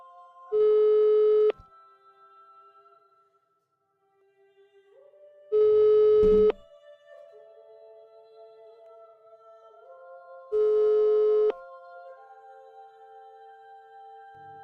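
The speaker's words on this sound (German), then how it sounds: "Hallo, Blülein, gehst du an dein Handy? Gesprächspartner bleibt nicht erreichbar" Busy signal from a phone in the blacksmith-shop video game Blacksmith Master: three loud, evenly spaced tone bursts about five seconds apart, each lasting roughly a second, over a quiet bed of game music.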